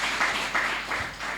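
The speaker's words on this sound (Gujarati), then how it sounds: "માતા મરિયમ માટે એકવાર આપણે જોરદાર તાળી પાડીએ" A congregation claps for Mother Mary in a devotional gathering, a moderate, steady wash of many hands with a few swelling surges, fairly close and without talk.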